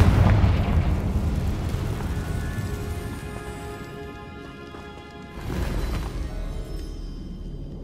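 A Confringo blasting curse from Hogwarts Legacy explodes with a deep rumbling boom that slowly decays, followed by a second swelling burst of debris and rumble.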